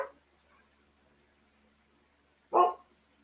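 A pet dog gives a single short, fairly loud bark or yelp near the end, after a faint whine at the start and a stretch of near silence indoors.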